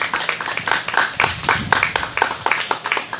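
Audience members at a lecture on Jeungsan Kang Il-sun and Daesun thought clap to welcome a speaker to the microphone, a small group producing steady, rhythmic claps at moderate volume.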